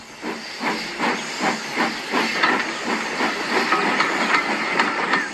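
A steam locomotive chuffs in a steady rhythm of hissing puffs, close and fairly loud, with no voices.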